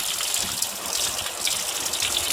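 Steady rush of running water rinsing cleaner out of a K&N engine air filter, a close, continuous gushing spray with no voices.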